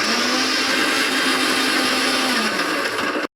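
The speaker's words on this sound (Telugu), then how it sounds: "గ్రైండ్ చేస్తాను ఇప్పుడు." A kitchen blender grinding milk for a milkshake, running at a loud steady whir with a slight pitch drop near the end before cutting off abruptly, close up.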